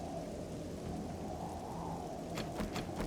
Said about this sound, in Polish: przy tym deszczu nie zawsze słychać dobrze